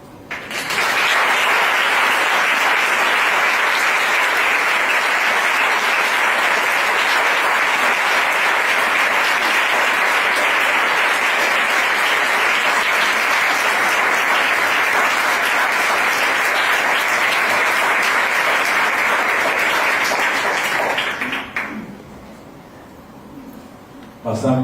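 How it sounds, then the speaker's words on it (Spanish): A lecture audience applauds loudly and steadily for about twenty seconds, a dense continuous roar of clapping that fades out near the end. "gracias Gustavo, que estos aplausos signifiquen nuestra vida y la alimenten"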